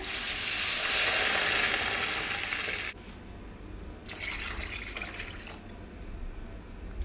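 Water poured into a hot pan for meatball soup: a loud, even sizzling pour for about three seconds, then softer bubbling and splashing with a couple of brief louder spatters.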